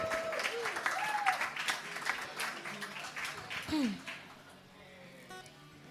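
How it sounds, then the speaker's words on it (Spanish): Applause from a live cultural show audience as a poet is introduced, steady clapping with voices talking over it, then dying away to near quiet. "Fuerte el aplauso para Sara Gil"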